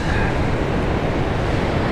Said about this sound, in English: Waves are bubbling away.